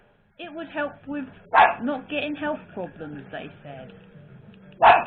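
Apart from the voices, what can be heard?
dog barking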